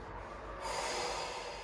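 A long, forceful breath is pushed out through the nose and mouth during an abdominal exercise, a close, breathy rush that swells and holds for over a second.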